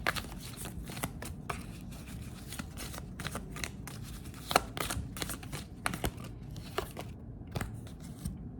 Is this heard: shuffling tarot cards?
yes